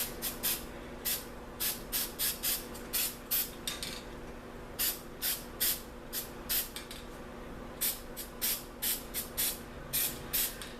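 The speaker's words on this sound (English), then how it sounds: "you spray that black around and it sets them planets back off in the distance" Black spray paint hissing from an aerosol can during space-themed spray paint art, in a steady series of short bursts, each a second or so long, separated by brief pauses, close and moderately loud over faint background music.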